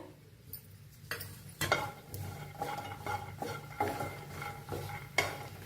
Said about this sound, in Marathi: त्याच्यातच खोबरं भाजून घेऊया